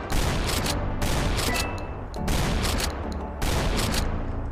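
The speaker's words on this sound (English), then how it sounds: "Why am I using a shotgun at long range?" Shotgun blasts in the Doom mod Golden Souls 2: four loud, booming shots spaced about a second apart, each with a sharp crack and a roaring tail that fills the gaps between them.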